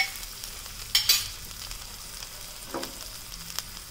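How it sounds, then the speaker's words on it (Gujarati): Grated ginger and finely chopped green chillies sauté in oil in a pan, a soft, low sizzle with a couple of sharper spatters and light scrapes near the start, no one speaking. "આદુ અને લીલા મરચાં ખૂબ જ સરસ રીતે સતરાઈ ગયા છે"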